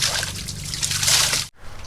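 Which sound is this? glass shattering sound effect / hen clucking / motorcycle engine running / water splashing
water splashing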